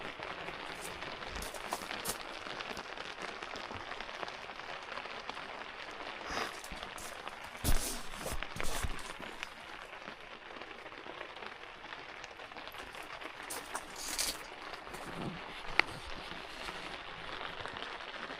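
Steady rain drums on the fabric of an Otter resort tent, a dense continuous patter with a few louder bursts of drops, no talking.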